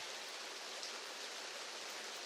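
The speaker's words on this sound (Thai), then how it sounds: "ฝนตกเหรอ" Steady, even hiss of rain falling, continuous and fairly faint with no other sounds.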